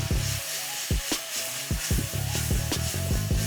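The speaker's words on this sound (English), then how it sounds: "Put me some onion in there. I like my onion to cook down a little bit." Onion sizzles and fries in a pan, a constant hissing crackle with repeated scraping stir strokes close by.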